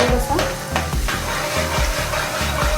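Garlic frying in hot oil in a pan for a chicken momo filling, a steady close sizzle broken by repeated low knocks and scrapes of stirring.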